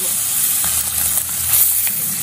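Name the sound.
bele fish sizzling while frying in mustard oil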